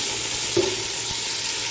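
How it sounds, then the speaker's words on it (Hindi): Onions fry in hot oil over low heat, a steady soft sizzle that holds evenly throughout, with a brief light stir or clink partway through and no talking. "अब हम इसमें प्याज डालेंगे। अब हम इसको हल्की आंच में प्याज को ब्राउन करेंगे।"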